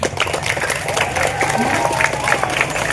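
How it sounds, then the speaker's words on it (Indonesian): Applause for a sixth-grade class at a primary school flag ceremony, a loud close burst of many children clapping with crowd noise mixed in. "Tepuk tangan dulu untuk kelas 6D."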